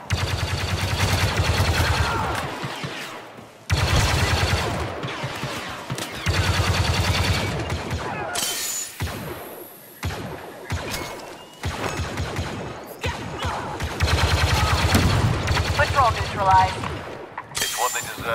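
Rapid blaster fire from Star Wars Battlefront 2 during the Battle of Endor, loud bursts in several stretches separated by short gaps, mixed with game sound effects and voices.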